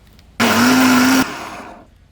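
A blender whirs through a chili and pickled garlic dipping sauce with water. The motor runs loud and close for under a second, then drops to a softer fading whine as it winds down.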